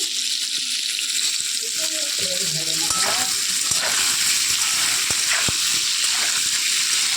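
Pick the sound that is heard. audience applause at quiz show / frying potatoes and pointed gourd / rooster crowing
frying potatoes and pointed gourd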